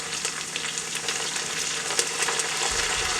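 Mint and coriander leaves are mixed and fried in a pan for vegetable biryani, giving a steady close crackling sizzle with light stirring throughout.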